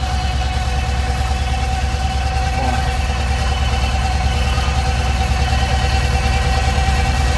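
T-25 and YuMZ-6 tractors work a field of loose, fluffy soil while sowing soybeans, a steady continuous engine drone with a faint whine, heard without talk.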